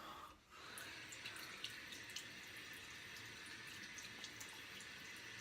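A tap runs steadily with cold water splashing into a sink during a face wetting before a shave, continuous and close, with no talking.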